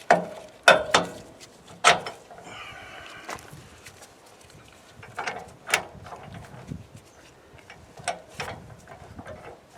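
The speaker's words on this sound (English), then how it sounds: "here's the ReadyBrake assembly itself, and it just slides into a regular hitch." A ReadyBrake tow assembly slides into a regular trailer hitch receiver, giving several sharp metallic clunks and rattles near the start followed by scattered lighter clicks and scrapes close by.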